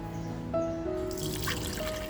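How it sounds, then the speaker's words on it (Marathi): Water is strained through a sieve, trickling and dripping steadily, a continuous close pouring sound with splashy texture, no voices. "तर हे पाणी गाळून घेणार आहे"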